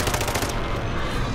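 Call of Duty Warzone gunfire on Rebirth Island: a dense, loud burst of automatic rifle fire that fills the whole short moment without a break.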